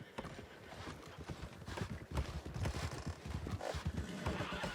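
Horse hooves clip-clop as riders arrive in Red Dead Redemption 2, steady rhythmic hoofbeats close by with a brief whinny, continuing throughout over background ambience.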